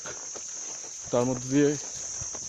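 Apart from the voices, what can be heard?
crickets chirping in the jungle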